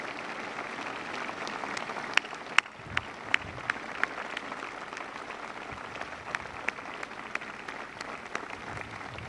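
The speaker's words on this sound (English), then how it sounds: "Give yourselves a round of applause." Service members aboard the aircraft carrier USS Ronald Reagan applaud steadily, a dense, sustained wash of clapping from a large crowd with a few sharper nearby claps standing out.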